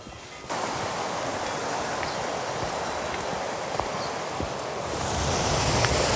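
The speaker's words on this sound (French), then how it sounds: "Voilà la rivière Secklisbach, qui se jette joyeusement dans le lac." Swiss mountain river Secklisbach rushing toward the lake on the Bannalp, a steady close torrent of churning water with faint wind, starting abruptly and growing a little louder near the end, no talking.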